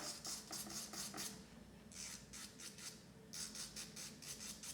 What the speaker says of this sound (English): I just get my electric file, put it on slow again, fine sanding band